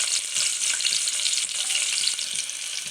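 Onion and green chillies sautéing in ghee give a steady, close, crackling sizzle with faint stirring scrapes, heard alone without any talk.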